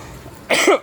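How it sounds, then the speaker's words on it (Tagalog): A single short, harsh cough close to the mic, following a moment of near quiet. "Medyo inuubo po ang inyong lingkod."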